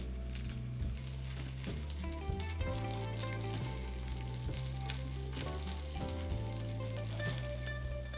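Salmon frying in a pan until crispy gives a continuous, even sizzle close to the microphone. The hiss stays steady throughout with no speech over it.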